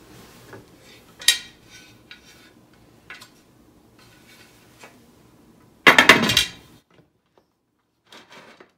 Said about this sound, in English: Let's get the lid on.